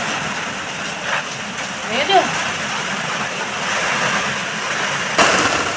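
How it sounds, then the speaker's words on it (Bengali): Steady hiss of heavy, wind-driven rain pouring outside, continuous broadband wash, with a faint voice and brief squeaks over it. "আর এত বৃষ্টি হচ্ছে চারদিক দিয়ে না, এত ছাট আসছে"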